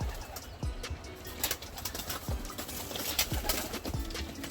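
Pigeons, a tame show breed, giving low cooing calls in a few separate bursts, close by, with some chirps and brief wing flutters over steady background noise.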